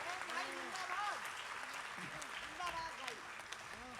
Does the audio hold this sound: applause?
yes